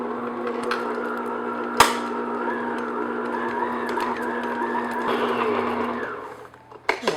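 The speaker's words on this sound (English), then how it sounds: "what I'm going to do now is just beat this on medium speed just to get it all creamy and smooth" Electric mixer beating butter in a bowl at medium speed, a steady mechanical whir with a sharp knock near the start and a brief clatter as it stops.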